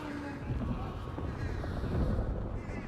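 Crows caw in the video game Little Nightmares 3 amid a rumbling, windy game ambience, rough calls mixed into a steady dense background.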